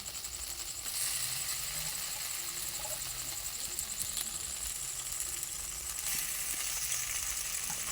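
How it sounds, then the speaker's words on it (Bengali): Boiled pasta tossed into a frying pan with turmeric and chili sauce sizzles in a steady, bright hiss, with a louder surge after the first second and again near six seconds, faint stirring underneath and no talk. "দেখো এবারে সিদ্ধ করা পাস্তাগুলো দিয়ে দিচ্ছি।"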